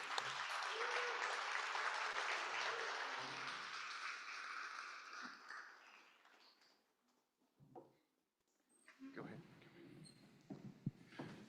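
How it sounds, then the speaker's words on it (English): An audience at a democracy summit applauds the panelists and moderator, a dense burst of clapping that fades over several seconds, followed by quiet room noise and a few scattered sounds as someone begins talking. "Please clap it up for our panelist and moderator."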